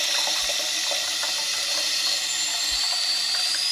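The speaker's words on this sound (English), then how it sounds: "Now listening to the way the water is filling inside of this tank" Water runs steadily into a toilet tank as it refills after a flush, a continuous hiss and rush of flow with faint gurgles, close and alone without speech.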